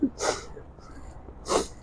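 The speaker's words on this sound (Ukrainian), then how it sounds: "То він чхає чи що? Таке як чхає." A man on a city street in Kyiv lets out two loud, sharp sneezes about a second apart, close by, with a faint quiet gap between them.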